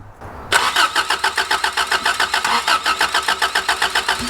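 A car engine cranks and catches after a brief quiet start, then settles into a loud, close, pulsing idle. A bent hose clamp adds a regular ticking or rattling beat to the running engine.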